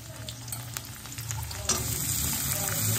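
Onion frying in a pan while meat is being cooked, a steady crackling sizzle with scattered spoon scrapes and taps, close and continuous, no speech.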